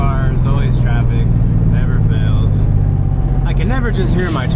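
Steady road traffic rumbles close by near a Nissan Silvia Spec-R S15, a continuous loud low drone of passing cars with someone talking over it.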